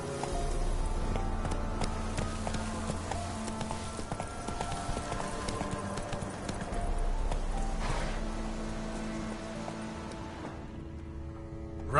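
Roach the horse galloping in a video game, a steady rapid clip-clop of hooves running continuously and close, with a brief snort or whinny midway and no talk.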